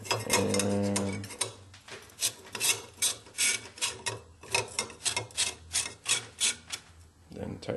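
A quad rail being tightened onto an AR-15 upper receiver over the gas block, heard as a close, loud run of rhythmic rasping, ratcheting strokes in steady repetition.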